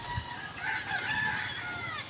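A chicken crows and clucks nearby in a backyard vegetable garden, a single drawn-out crow with some clucking, fairly clear over a light outdoor background, no talking.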